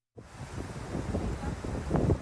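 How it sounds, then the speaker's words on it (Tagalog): Strong typhoon wind roars and buffets steadily in Basco, Batanes, Philippines, a dense, rushing noise that swells slightly toward the end. "Matinding hangin at ulan ang naranasan sa Basco, Batanes."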